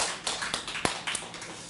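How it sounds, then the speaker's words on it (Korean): Light applause from a church congregation during a Sunday service, a soft, scattered patter of claps with a few sharper taps, fairly quiet and not from a large crowd. "우리 하나님께 감사의 박수 올려드립니다."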